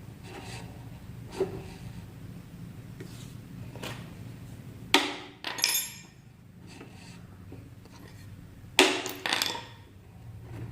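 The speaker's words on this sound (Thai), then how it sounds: "เราต้องใช้ค้อนนะครับเคาะที่ปลายของมันนะครับ ให้มันเข้าล็อกมันนะครับ" A hammer taps the end of a bearing on a Hatari electric fan being repaired, giving a few sharp metallic clinks, two of them louder with short ringing tails, separated by quiet pauses.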